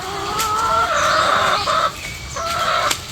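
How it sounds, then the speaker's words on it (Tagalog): Chickens cluck repeatedly in short, busy bursts, close by, with a rooster call rising among them over steady background noise. "Chickens already."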